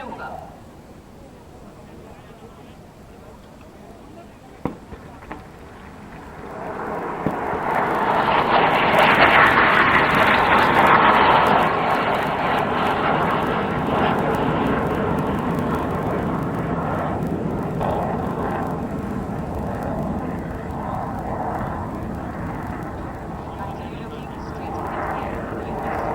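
Indian Air Force Bahadur formation flying overhead at Hindan Air Base for the 88th Air Force Day: a jet roar swells after a quieter start and holds as a broad, loud rumble, with commentary talk over it.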